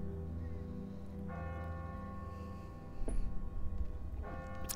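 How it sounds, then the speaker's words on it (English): A church bell tolls from a bell tower in a Walking Dead video game, ringing in sustained harmonic strikes about three times over a constant low ambient drone, loud and resonant. "For whom the bell tolls."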